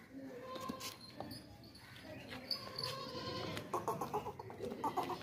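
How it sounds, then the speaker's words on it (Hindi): A large, heavy-bodied goat bleats several times in a farm setting, the calls repeating close by over a busy background of other livestock and faint bird chirps. "बहुत ही बड़ी बकरी है माशाल्लाह से"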